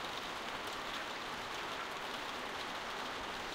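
Steady rain falling in The Walking Dead video game on Xbox, a constant dense hiss of drops on surfaces, even and unbroken throughout with no voices.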